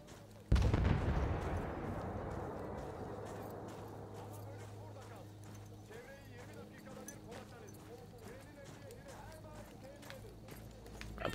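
Gunfire in the video game Battlefield 1: a loud blast opens the passage, then its rumble slowly fades under a sustained low drone, with quieter scattered shots and game noise further off.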